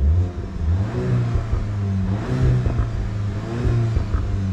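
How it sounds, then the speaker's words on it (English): A 2022 VW MK8 GTI revving in sport mode, its engine rising and falling through several blips with small crackles and pops from the exhaust, heard fairly close with no talk. "but it actually does like pops in the exhaust now"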